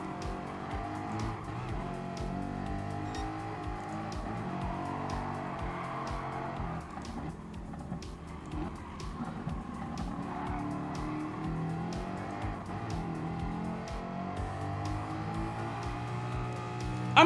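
A race car in Gran Turismo Sport, its engine droning and climbing through the gears with steady harmonic whine, tires squealing and skidding at times, continuous and close.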